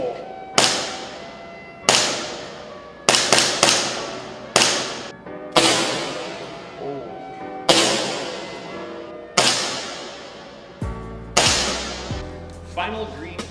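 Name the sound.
airsoft gun shots with green tracer BBs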